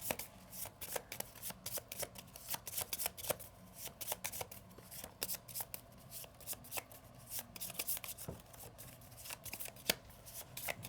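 A small deck of Arkham Horror LCG cards being shuffled up close, a steady run of crisp riffling snaps and soft slides repeating through the whole stretch with no talking.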